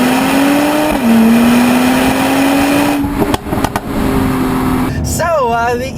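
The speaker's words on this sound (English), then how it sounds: "The E43AMG has a 3-liter bi-turbo V6 engine that does 396 horsepower, 384 pound-feet of torque." A 2017 Mercedes-AMG E43 sedan's 3-liter bi-turbo V6 pulls hard in Sport Plus on a back road, its engine note climbing steadily inside the cabin, with a shift blip and someone talking over it.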